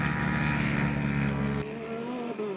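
Polaris-sponsored Ultra 4 turbo off-road race vehicles roar past with a loud, steady engine drone that drops off and shifts upward in pitch partway through, as from a passing or accelerating machine.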